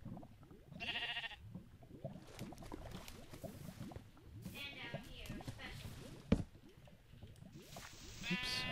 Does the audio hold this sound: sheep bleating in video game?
yes